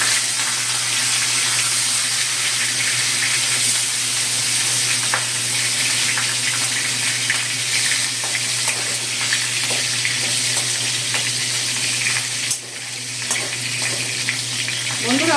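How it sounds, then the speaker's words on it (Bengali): A hilsa fish head fries in hot oil with bay leaves, dried chillies and whole cumin, producing a loud, continuous close-up sizzle over a low steady hum, with no speech. "বন্ধুরা 2 মিনিটের জন্য আমি মাছের মুড়োটা ভেজে নেব।"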